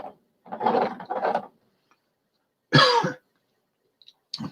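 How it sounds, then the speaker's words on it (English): A few separate coughs or throat clears, close and fairly loud, with silent gaps between them and a short final burst. "I'm coughing."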